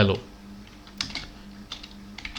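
Typing on a computer keyboard while writing a short PHP file in Notepad, a quick run of light close key clicks, some in brief bursts, with a low steady hum underneath.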